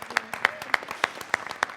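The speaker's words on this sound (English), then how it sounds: "another round of applause for the new Mr." Scattered hand claps ring out at a wedding reception as guests applaud the newlyweds, sharp individual claps spaced unevenly rather than a dense roar.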